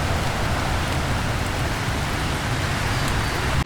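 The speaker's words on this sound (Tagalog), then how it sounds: "Naabutan na nga kami na ulan kaya umuwi na kami." Heavy rain in a provincial seaside area, a dense, steady hiss of downpour close to the microphone throughout the few seconds, with no voices.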